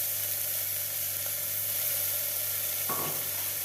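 Green peas frying in oil for bisibelebath, a steady hissing sizzle that stays even throughout, with a brief scrape near the end, no talking.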